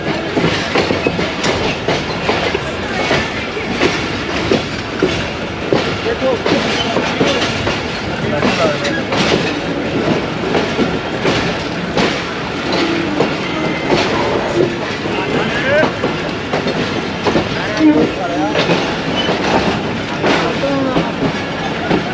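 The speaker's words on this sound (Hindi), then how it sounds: "दोस्तों 3:05 पे पहुंची ट्रेन हमारी लाहौर जंक्शन पे, और आई थिंक इसको 8 नंबर प्लेटफॉर्म के ऊपर लेके जा रहे हैं।" The Allama Iqbal Express rolls into Lahore Junction toward platform 8, heard from on board as a steady loud rumble with rhythmic clickety-clack of wheels over rail joints.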